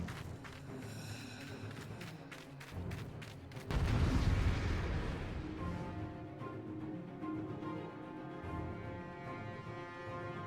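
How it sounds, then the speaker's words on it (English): Big explosions in a video game: deep booming blasts and rumbling impacts that swell loudly and then trail into a sustained roar, with no talk. "Yeah, big explosions."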